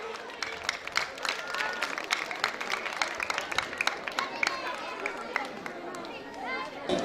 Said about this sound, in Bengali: আমি দর্শকদের আবারও করতালির মাধ্যমে তাকে